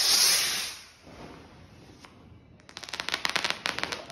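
A seven-shot Diwali firework, first a loud hissing whoosh and then a rapid series of crackling pops that build toward the end, heard outdoors with no speech.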